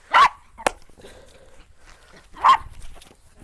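A dog, twelve years old, gives a few sharp barks spaced across a couple of seconds, close and loud against a quiet room.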